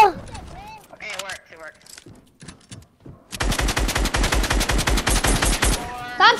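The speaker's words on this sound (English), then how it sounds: "Steve, stop shooting" Rapid automatic gunfire from the video game Fortnite bursts in a dense, loud sustained stream in the second half, preceded by scattered game sounds while a voice speaks.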